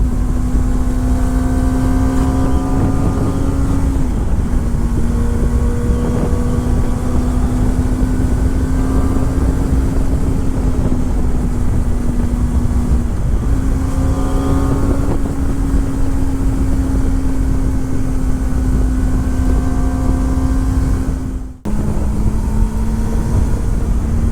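A Kawasaki ZX25R motorcycle rides through rural Saitama countryside in Japan, its engine holding a steady high whine under constant wind rush, with brief shifts in pitch and one sharp dip near the end.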